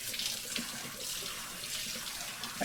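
Shower water running in a steady, hissing stream, moderately close and alone.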